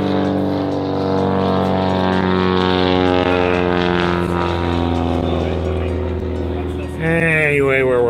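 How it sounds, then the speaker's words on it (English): A propeller airplane passes overhead in an outdoor cooking setting, a loud, steady droning hum that swells and holds throughout with a slight shift near the end, with voices talking underneath. "After our airplane flies over."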